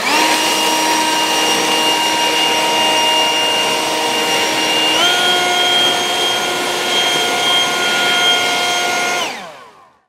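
An Echo eForce battery-powered handheld leaf blower runs at full throttle with a steady whining roar. Midway, the turbo button clicks and the pitch and intensity step up. The blower then winds down and cuts off near the end, with no talk.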